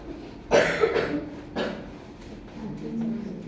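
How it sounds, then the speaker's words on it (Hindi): One person coughs up close, a harsh burst followed by a second shorter cough, then quieter throat noises fading out. "वो भी बहुत खांसी आ रही है आपको भाई।"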